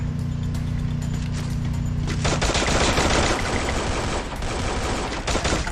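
Loud in-game gunfire in the mobile shooter Free Fire: after a droning lead-in, a rapid string of close, punchy shots and mechanical weapon clacks bursts out and continues in dense volleys.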